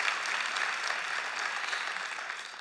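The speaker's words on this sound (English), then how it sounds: "Let's give them all a round of applause." Audience applause fills an indoor event space: a steady, dense wash of clapping from a sizable crowd, sustained evenly throughout with no voices over it.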